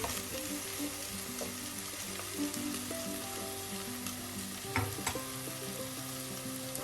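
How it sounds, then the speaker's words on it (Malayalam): Potatoes and lady's finger (okra) stir-frying over a high flame, a steady close sizzle with scattered crackles and a few clattering stirs of a utensil in the pan. "പൊട്ടറ്റോയും വെണ്ടയ്ക്കായെല്ലാം അതുപോലെ ഫ്രൈ ആയിട്ടുണ്ട്"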